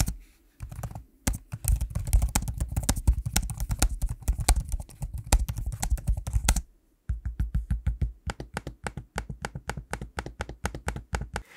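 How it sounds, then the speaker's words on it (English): Steady, close-up clicking of laptop keys in a fast typing rhythm, then after a brief pause a slower series of sharper, evenly spaced trackpad clicks. "a quick audio sample of the keyboard and trackpad so you can hear what they sound like"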